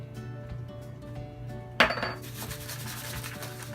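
Raspberries with a little lemon juice are stirred in a baking dish, bringing a sudden sharp clink of a utensil against the dish followed by quieter scraping over a low steady room hum.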